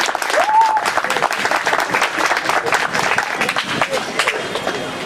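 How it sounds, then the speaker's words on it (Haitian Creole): An audience at a televised gathering in Gonaïves claps in a dense, continuous round of applause, with crowd voices and a brief whistle rising above it near the start. "Applaudissez."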